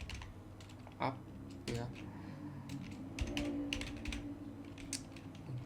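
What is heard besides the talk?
typing a command on a computer keyboard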